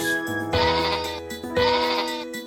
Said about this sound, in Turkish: Çiftliğinde kuzuları var